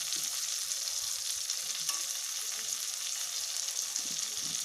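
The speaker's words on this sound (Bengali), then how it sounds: "পেঁয়াজটা ভাজা হয়ে গেছে" Onion fries in a pan with a soft, even sizzle that holds steady throughout, fairly quiet, with faint stirring scrapes underneath.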